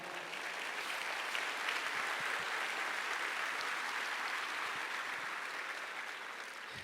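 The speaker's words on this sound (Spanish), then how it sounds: "Dale un aplauso al Señor." Congregation applauding the Lord during a church sermon, a steady, moderately distant wash of clapping that holds evenly for the whole stretch with no voices over it.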